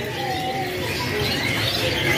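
Canaries at a kiosk in Pramuka bird market chirp and trill in thin high bursts over a busy, continuous market background, several birds calling at once.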